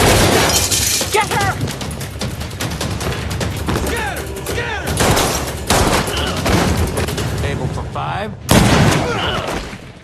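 Bursts of rapid gunfire rattle continuously over a dense, loud mix of voices and crashes, with a sharp blast near the end.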